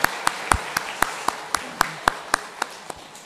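A church congregation claps together in time during a men's mission society dedication service, with sharp, evenly spaced claps repeating about every quarter second, close and loud, with no voices.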